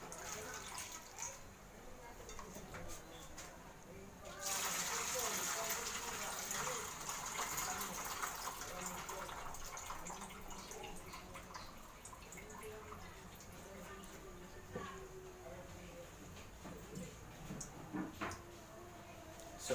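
Water from a tap runs over bitter gourd (ampalaya) during washing, a faint steady splash and trickle with a louder gush partway through and soft drips toward the end.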